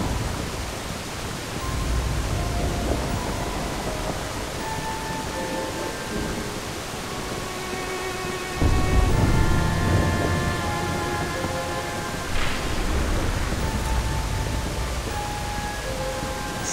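Rain and thunder in the video game Dirge of Cerberus: Final Fantasy VII, a constant dense rain hiss throughout with a heavier rumble swelling midway and faint musical tones drifting above, and no voices.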